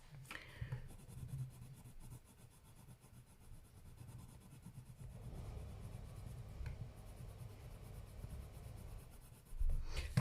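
Hard-pressed colored pencil scratching steadily across paper, a continuous soft rasp heard close up with no talking.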